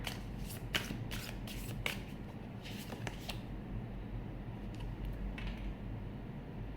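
A deck of tarot cards is shuffled close by, a steady papery riffling rustle with a few sharper flutters and snaps early on, continuous and unaccompanied by speech.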